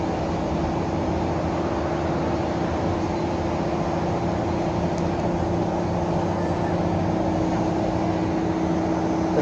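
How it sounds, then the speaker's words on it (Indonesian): A Harapan Baru bus engine idles steadily in a Trenggalek garage while warming up, a continuous low droning hum with a constant tonal note running throughout, close and fairly loud. "Mesinnya dipanasi smile."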